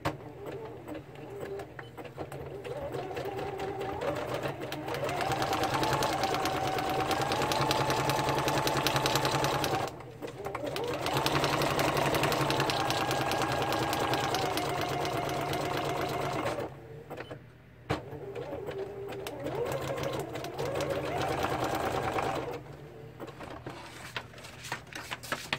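A sewing machine stitches fabric in long continuous whirring runs, loud and close, broken by two short pauses before each run restarts.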